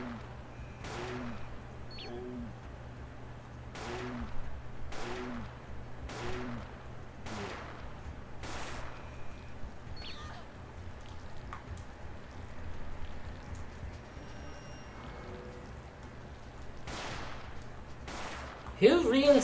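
Automated turret gunfire in Parasite Eve 2 rings out as sharp, separate shots at irregular intervals, about a dozen in all, over a low steady hum.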